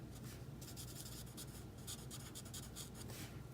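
Marker coloring in on card with dark smoky slate ink, filling in typewriter mechanics on a viewfinder card: soft, steady scratchy strokes in quick repeated bursts, close up with no talk.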